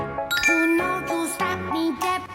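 Bright bell-like notification chimes ring out in a quick sequence of clear, loud tones, a short jingling ding effect with no talking.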